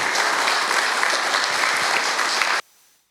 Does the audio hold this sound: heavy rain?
no